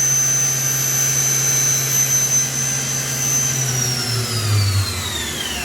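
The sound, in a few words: Daewoo DMV-4020 CNC machining center spindle running at 8,000 RPM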